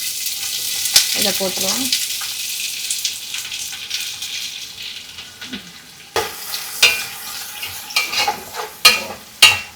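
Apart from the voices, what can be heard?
chicken frying in hot oil for biryani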